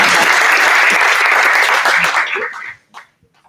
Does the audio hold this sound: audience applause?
yes